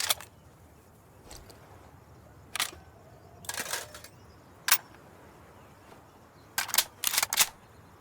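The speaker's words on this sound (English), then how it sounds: "Just a sec, reloading!" Weapon reloading in Insurgency Sandstorm, a series of sharp metallic clicks and clacks of magazine and bolt handling spread over several seconds, close and crisp against a quiet background.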